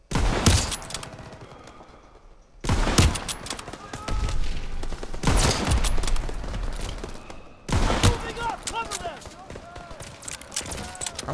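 Gunfire in the World War II video game Call of Duty WWII arrives in repeated loud bursts of rapid shots and booms, separated by brief quieter gaps, with a player talking between them.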